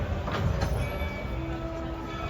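Steady low rumble of a moving ride train at Magic Kingdom, with faint tonal whines and squeals drifting over a continuous rolling background; no talking.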